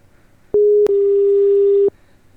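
A telephone call tone sounds while a number is redialed: a brief steady beep, a short break, then a longer sustained tone of just over a second. It is loud and clear, with no talk over it.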